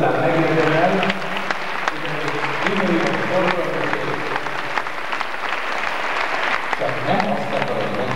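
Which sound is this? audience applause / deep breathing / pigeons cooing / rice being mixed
audience applause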